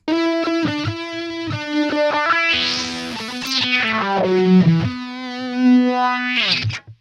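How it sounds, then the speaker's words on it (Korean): Wah-like filter sweep made with automation in Studio One, applied to a distorted, sustained synth or guitar line whose tone opens and closes over several notes, loud and alone with no talking. "약간 와우 이펙트, 와우 이펙트 아시는 와우 페달 그런 이펙트 아실랑가 모르겠는데 그런 소리 비슷하게 나죠 지금"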